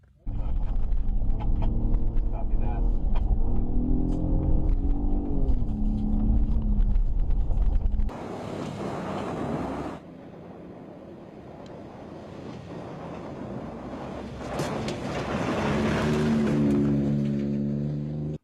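A 2017 Ford F-150 Raptor drives off-road in a low-speed rock crawl. A loud, deep engine rumble with a steady tone gives way to quieter gusts of wind and road noise.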